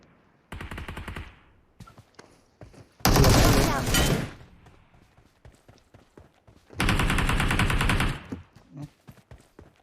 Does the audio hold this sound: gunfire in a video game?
yes